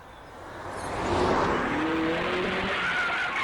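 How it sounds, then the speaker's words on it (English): Car tires squeal loudly as a vehicle peels out, the screech rising and holding over engine roar for a few seconds. "The tires peeled out as it whipped onto Greenleaf Street"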